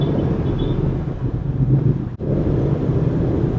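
Road noise heard from inside a car moving slowly through heavy traffic: a steady low rumble with some wind buffeting and one brief dip in the middle, and no talking.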